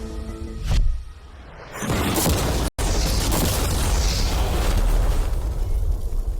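A deep boom bursts out as a car with mannequins inside is blown up, followed by a sustained roaring rumble and a crackling blast that fills the rest of the clip.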